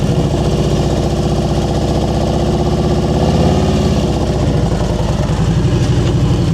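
A motorcycle engine runs steadily at low speed during slow-speed riding skills practice, a continuous close rumble with slight throttle variations and no pauses.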